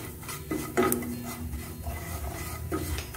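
Red chilli, fennel and coriander powder roasting in a pan, with repeated scraping and stirring of a utensil against the metal over a soft sizzle, close and steady.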